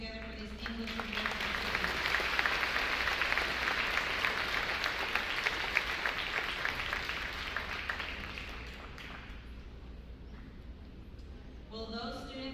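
Steady audience applause at a high school academic awards ceremony, sustained and fairly distant in a large hall, tapering off over the last few seconds into quieter room noise.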